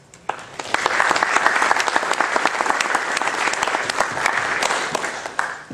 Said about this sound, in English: they should have a round of applause for what they do